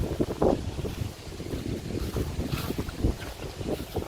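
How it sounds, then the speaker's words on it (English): Gusty wind buffets an outdoor setting with steady broadband rumble and microphone buffeting, rising in several louder gusts across the few seconds, with no talk. "what you think about this wind?"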